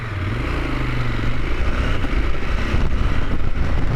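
CFMOTO 1000MT-X motorcycle engine while riding, a loud steady engine drone with pitch rising and shifting as it revs through gears, mixed with wind rush on the microphone.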